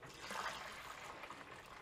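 Brewing extract for an Australian bitter pours steadily into a pot, giving a soft, continuous liquid gurgle and trickle at moderate volume with no talking.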